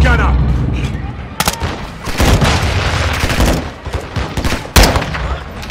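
Rapid bursts of rifle fire and booming shots crackle through an intense firefight in the Modern Warfare II campaign, loud and dense with repeated volleys, mixed with shouted voices.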